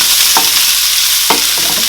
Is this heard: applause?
no